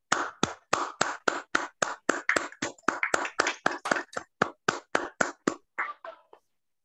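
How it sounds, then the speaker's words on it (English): A small meeting audience claps a round of applause: about two dozen sharp, evenly spaced claps from a few hands, fairly close, then a quick ragged trailing-off with no voices over it. "let's have an enthusiastic start with a thunderous round of applause"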